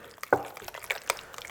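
Tartare sauce made with mayonnaise is stirred in a bowl, giving a few quick wet, sticky clicks and squelches, close and fairly quiet.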